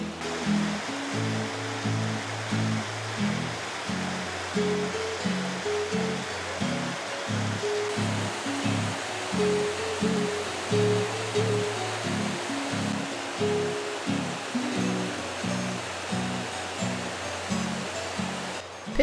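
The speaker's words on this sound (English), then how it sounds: "bridge over the River Tavy with weirs and rapids." River Tavy pouring over weirs and rapids beside a bridge, a continuous rushing roar of water held steady throughout, with a faint repeating tonal pattern underneath.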